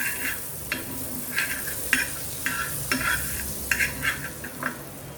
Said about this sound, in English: On the tawa, let us put some butter and spread it